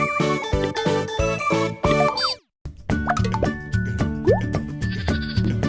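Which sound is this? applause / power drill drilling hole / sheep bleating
sheep bleating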